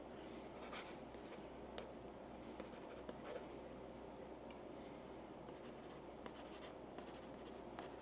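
Calligraphy pen stylus scratching across a reMarkable Paper Pro tablet screen, faint close-up strokes and soft taps in irregular bursts over quiet background, no speech.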